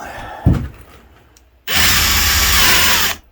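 A power drill drives into a wooden ferro rod handle with its ratchet clutch set low, whirring loudly and steadily for about a second and a half after a brief knock and quiet handling.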